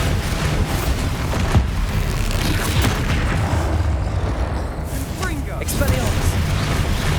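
Bombarda explosion spells in Hogwarts Legacy boom and rumble amid dense, continuous combat noise, with bursts of crackling impacts and loud low thuds running throughout.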